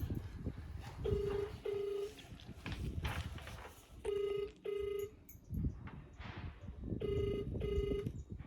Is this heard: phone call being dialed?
yes